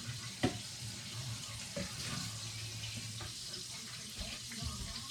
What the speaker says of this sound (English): Okay, I gotta rinse this bowl out.